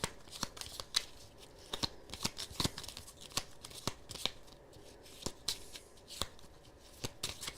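Playing cards shuffled during a solo session of the board game Tawantinsuyu, a quiet, steady run of riffling flicks and snaps repeating for several seconds, close up and without talk.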